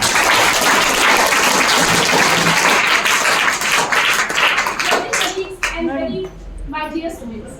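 An audience at an inter-district anti-drug poster making competition applauds loudly with dense, sustained clapping that thins out toward the end as a voice starts speaking.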